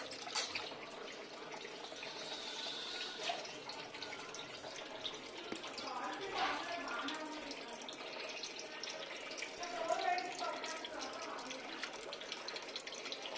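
Chana dal washed under tap water: a quiet, continuous trickle of running water into a vessel with faint swishing and splashing, close and low in level, with no one talking.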